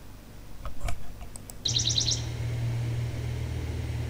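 A recorded Bewick's wren song plays back as a quick burst of bright, high chirped notes in rapid succession, preceded by a few sharp clicks and followed by a steady low electronic hum.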